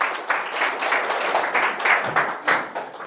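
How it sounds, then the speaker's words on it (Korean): A church congregation claps together in steady, rhythmic applause, fairly loud and close, lasting the whole moment without talk. "박수 한번 쳐주시기 바랍니다."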